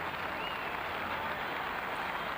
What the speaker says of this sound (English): Darren Maroon, getting a generous round of applause